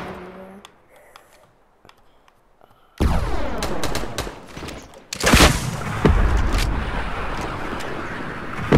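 Video game gunfire erupts in a build fight, dense bursts of rapid shots and booms layered over busy game noise, loud and continuous after a quieter opening with faint clicks.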